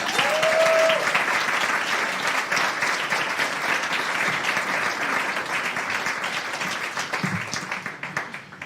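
At a chamber music evening, the audience gives a sustained round of applause, dense and steady clapping that slowly thins toward the end, with a brief tone near the start.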